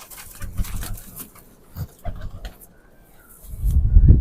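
Dolsara pigeon giving a few low, soft coos in short bursts, close by, with a louder rumbling coo near the end and a little background noise.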